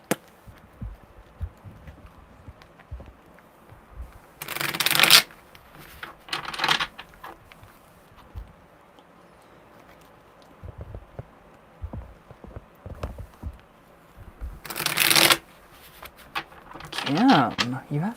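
A deck of tarot cards is shuffled in several short, crisp riffling bursts. Long quiet gaps with faint background noise separate the bursts.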